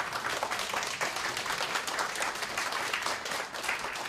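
Steady, dense applause from an audience at an event greeting a pianist with four fingers, sustained evenly at full strength throughout with no pause.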